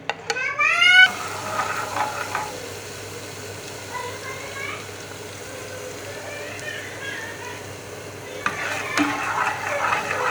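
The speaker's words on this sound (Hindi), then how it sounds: "और अदरक और लहसुन के पेस्ट को हम फ्राई कर रहे हैं।" Steady sizzling of ginger garlic paste frying in a hot pan, with occasional stirring and a few brief high chirps near the start and end.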